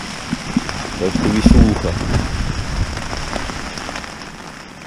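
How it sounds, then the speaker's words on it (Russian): Heavy rain drums steadily on a camping tent in a continuous hiss. Someone speaks briefly over it, and a few louder thumps come early on. "Дождина льет."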